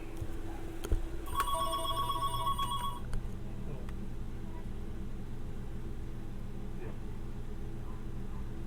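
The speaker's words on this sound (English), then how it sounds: "Got a phone call." A telephone rings in a short burst of electronic trills lasting about two seconds, clear over a steady low engine-like drone, with faint voices in the background.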